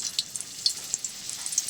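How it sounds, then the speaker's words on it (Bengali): Potatoes fry in hot white oil in a wok, a faint, steady high sizzle with small crackling pops scattered throughout, brief and close. "প্রথমে আলু ভেজে নিচ্ছি"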